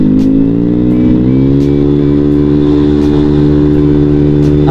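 A motorcycle engine with a dented, faulty fuel tank hums and revs steadily close by, its loud continuous drone rising slightly in pitch, with a few faint ticks over the top.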